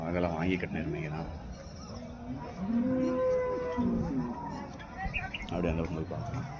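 A water buffalo lets out a long, loud, drawn-out moo at a busy livestock market in Erode, with people talking nearby before and after the call.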